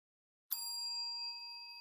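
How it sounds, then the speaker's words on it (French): A small bell used as a sound in homemade music during lockdown: a single bright ding that starts from silence and leaves a clear, ringing tone fading slowly. "Cette petite sonnette."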